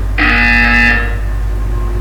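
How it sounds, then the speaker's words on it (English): A single harsh electronic buzzer from Portal 2 blares loudly for under a second, then cuts off, leaving a low steady hum. "You will hear a buzzer."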